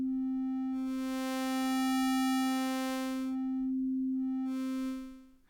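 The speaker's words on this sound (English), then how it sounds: "if I press a key, I get this sine wave, and I can move my wavetable position to access the other waves" Ableton Live 10 Wavetable synth holds a steady sine-wave note while the wavetable position sweeps, so bright buzzy overtones swell in and fade out twice over the sustained pitch, then the note releases.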